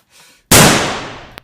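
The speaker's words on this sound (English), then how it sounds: "maybe I can just shoot the handcuff off" A single loud, close gunshot fired to blast off a handcuff, a sharp crack with a long decaying tail, preceded by a faint breath and followed by a small metallic click.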